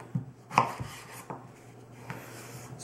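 A kitchen knife chops vegetables on a board in a few separate, spaced thuds, crisp and close, with quiet pauses between the cuts.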